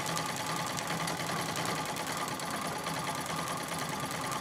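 A Singer 66 treadle sewing machine runs steadily while free motion quilting, a close, continuous mechanical whir and clatter that holds an even pace throughout.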